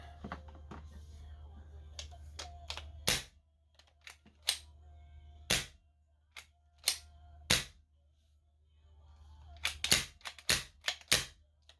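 An old Spyder Hammer paintball marker test-fires on high-pressure air, with sharp, loud pops spaced irregularly and some in quick clusters, over a low steady hum and faint mechanical clicks between shots.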